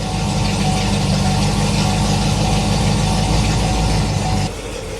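Chevrolet Corvette C7 Z06 with its supercharged LT4 V8 idling in a garage, exhaust valves open: a loud, steady, deep rumble throughout that drops suddenly in level near the end.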